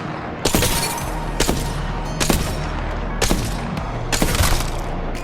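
Longbow sniper rifle in Apex Legends fires single heavy shots at a slow, steady pace, five loud cracks spaced about a second apart over low game ambience.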